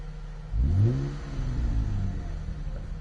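Tuned Mitsubishi FTO GP version R engine in a racing video game, a sharp blip of revs rising quickly then settling into a steadier throaty hum, loud and close.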